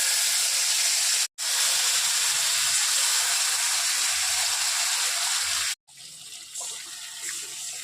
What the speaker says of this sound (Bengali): মশলা ধোয়ার জলটা একটু দিয়ে দিলাম এর মধ্যে।